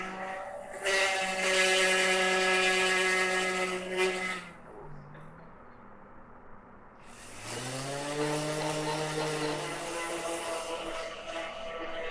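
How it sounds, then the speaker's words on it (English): A power sanding disc works over cedar boards for a draft beer tap tower, a loud whining motor drone that runs for a few seconds, drops off briefly, then spins up again, close and without talk. "I had to clean my sandpaper disc about 3 times just to sand these 2 boards."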